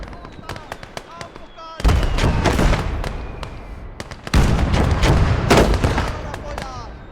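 Heavy artillery fire in a World War II–style battle game: a burst of booming blasts and crackling shots, with a second louder barrage a few seconds later, thick rumbling explosions close by and rolling on.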